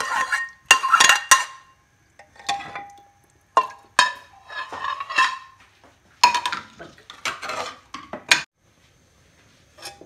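A spoon clanks and scrapes against a pressure cooker while lobia (black-eyed pea) curry with dal and spices is mixed, irregular metallic knocks and clinks in short bursts, close and fairly loud, with no talking.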